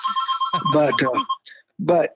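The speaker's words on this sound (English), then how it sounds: "excuse my phone." A telephone rings with a steady, high electronic tone beneath a person speaking over it during a conversation about weekend rates, the ring continuing through pauses in the talk.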